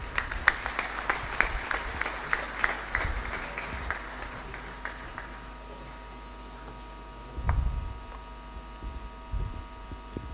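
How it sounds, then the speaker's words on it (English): Audience applause at an African leadership and legacy celebration ceremony in Sierra Leone, honoring a deputy minister as she takes her seat. A dense burst of clapping fades out after about four seconds, leaving a low hum and a few faint knocks. "A round of applause as she takes her seat."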